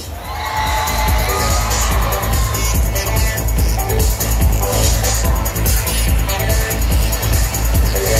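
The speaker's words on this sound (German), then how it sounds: "Schreit für mich!" Riders on the Transformer fairground ride at the Allerheiligenkirmes in Soest scream and cheer together in a loud, sustained crowd roar, with machinery rumbling underneath throughout.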